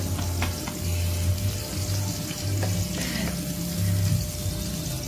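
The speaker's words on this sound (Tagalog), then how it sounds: "Lagay ko na lang yung sabay yung bawang at saka yung sibuyas." Garlic and onion frying together in a hot pan for pork adobo, a loud steady sizzle throughout with faint scraping underneath, close and continuous, no talking.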